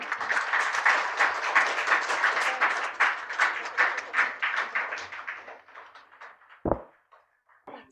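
Applause from an audience at an award felicitation ceremony, a dense sustained clapping that fades out toward the end, followed by a single loud thump and a few scattered claps.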